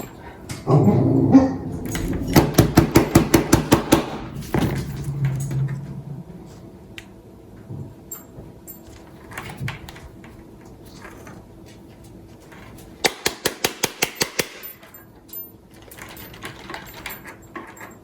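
An old iPod's failing hard drive struggles to spin up, giving two bursts of rapid rhythmic clicking and ticking, one early and one later, with faint handling noises between them and no speech.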